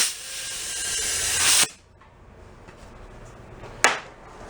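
A spray bottle hisses in a long steady burst over a tire and inner tube on a Cushman meter maid, then cuts off, followed by quiet and a second brief spray.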